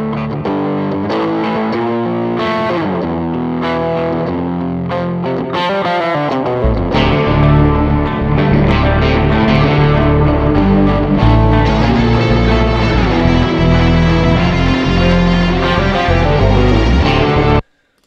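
A rough mix of a song with heavily distorted electric guitar and bass plus ambient reverb, starting sparse and then swelling into a loud, dense, sustained wall of sound before cutting off abruptly.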